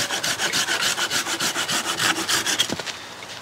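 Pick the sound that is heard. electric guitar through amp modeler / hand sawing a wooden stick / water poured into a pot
hand sawing a wooden stick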